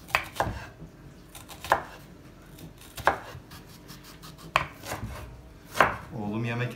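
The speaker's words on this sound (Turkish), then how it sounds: "Şöyle soğanlarımızı güzelce minik minik doğrayacağız." Onions are chopped finely with a knife on a cutting board in a home kitchen while preparing a steakhouse double burger, crisp knocks landing every second or so, close and clear, with no talking.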